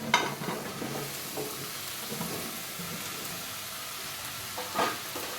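Mixed vegetables fry together in oil over a low gas flame while they are stirred, producing a soft continuous sizzle with occasional scrapes and stirring clatter, fairly faint and close.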